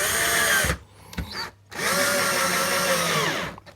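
A cordless drill with a weakening battery drives the last screw into a pallet wood table, with two long, loud whirring runs close by that are broken by a short pause and a brief stall.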